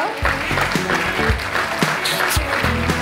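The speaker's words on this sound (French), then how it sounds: "On applaudit bien fort Logona." An organic-products awards ceremony crowd claps for a winning brand, with a steady rush of applause running throughout the three seconds while voices talk over it.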